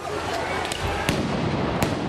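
Firecracker and tear gas explosions go off during a street riot outside a courthouse, with three sharp bangs over a loud, continuous crowd roar.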